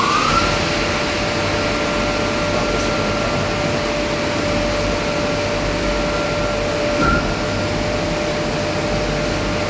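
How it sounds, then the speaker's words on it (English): A Tornatech fire pump in a fire protection pump room runs with a loud, steady motor drone and broadband whir that holds constant throughout, with no voices. "the pump is not running, and immediately it starts to run"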